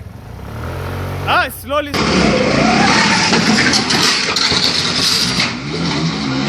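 A motorcycle pulls away on a road during a beginner riding lesson, its engine rising to a loud, steady rumble close by, with an instructor's voice over the top.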